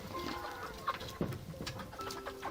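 Soft clucking from chickens with scattered short calls and faint bird chirps over a quiet outdoor background.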